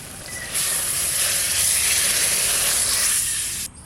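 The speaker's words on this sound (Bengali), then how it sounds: "এবার ঢেলে ফোড়ন দেব" Spices hit hot oil for tempering while cooking a fish curry, giving one loud, steady, close hiss and sizzle that starts suddenly and holds for about three seconds before cutting off.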